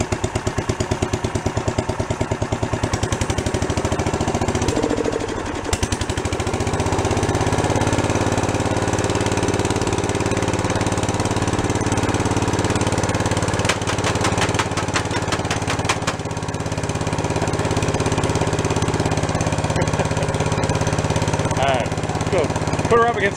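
The small engine on a log splitter abandoned for ten years runs steadily at low RPM, a loud close chugging drone with some rattling and knocking, and someone talks briefly over it.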